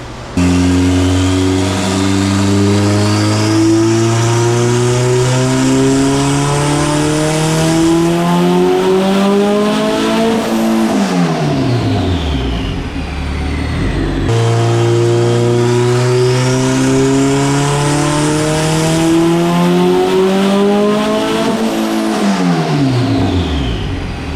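A turbocharged non-VTEC Honda B18B1 engine with a 3582 turbo revs hard under boost in two loud, near pulls, each climbing steadily in pitch before a sharp drop and a brief lull between them.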